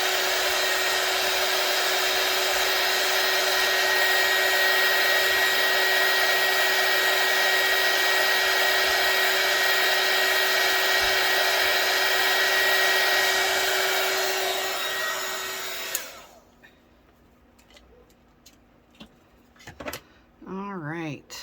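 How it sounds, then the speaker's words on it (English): A heat gun blows steadily and loudly over UV resin in a mold to clear bubbles, a continuous whirring roar that runs for about sixteen seconds and then shuts off. Quiet speech follows. "So I'm going to use my heat gun."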